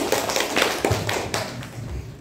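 A few students clapping in a grade 8 classroom, scattered uneven claps and taps close by, fairly light and irregular with no talking.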